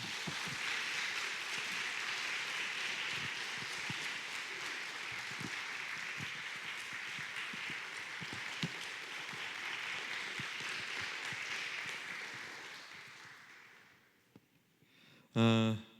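A church congregation claps in welcome for a missionary, a long, even stretch of applause at moderate distance that fades out near the end, followed by a short burst of voice.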